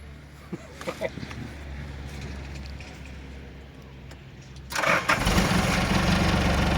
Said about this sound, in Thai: เครื่องสตาร์ทติดง่าย